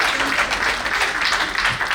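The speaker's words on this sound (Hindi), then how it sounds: "तो डॉक्टर रेणु श्रीवास्तव के नाम पर एक बार वही तालियां बजा दीजिए" An audience at a world record felicitation ceremony applauds Dr. Renu Srivastava, a dense, steady burst of many hands clapping at close range, with no gaps.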